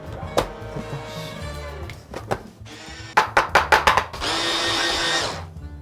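Mushrooms ground in a small food grinder during pork Wellington prep: a few thunks and a quick run of pulsing bursts, then a sustained loud whirring grind that ends abruptly.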